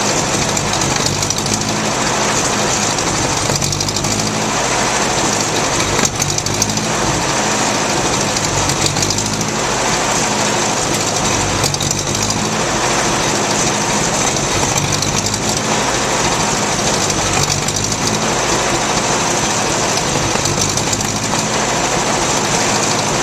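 A Ford 841 tractor engine idles continuously at close range, a low rumbling drone with a faint rhythmic pulse and no voices.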